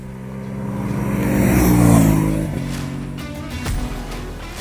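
Engine of a comfortable sport touring motorcycle revving up to a peak and easing off, a smooth rising-and-falling drone close by with no talk.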